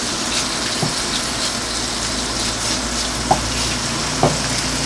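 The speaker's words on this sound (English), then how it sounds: "Fry our bacon. Get that going." Bacon fries in a pan with a steady, even sizzling hiss. A few faint clinks sound near the end, with no talking.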